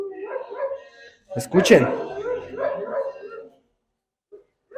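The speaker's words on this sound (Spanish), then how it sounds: "están aullando los perros porque el diablo ahí anda" Dogs howl and yelp in drawn-out, wavering cries that rise and fall over a few seconds, heard fairly close, with a person speaking briefly over them during a Christian family church gathering.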